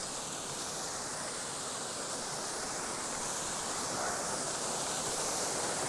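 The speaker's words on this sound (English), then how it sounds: "we've come to a waterfall." A waterfall in the Northumberland countryside gives a constant, close, broadband rushing roar that stays even throughout, with no voices.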